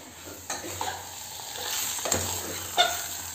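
Offal masala frying in a pan while being stirred, a continuous close sizzle with scraping strokes and a few sharper knocks against the pan.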